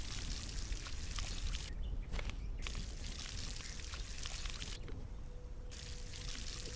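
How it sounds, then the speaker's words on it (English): Water pours from a bucket onto crops in the Solar Punk video game, a steady splashing gush with two brief gaps where the pouring stops, fairly quiet and with no talk. "Getting everything all watered up here."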